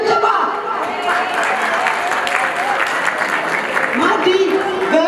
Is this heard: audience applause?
yes